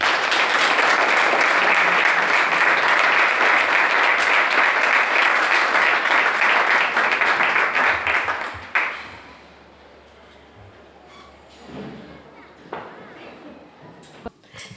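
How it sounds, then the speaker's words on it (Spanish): Welcome applause from an audience at a civic reception in Sant Vicenç dels Horts, loud sustained clapping for about nine seconds that stops abruptly, followed by quieter room sound with a few murmurs. "donem un aplaudiment de benvinguda"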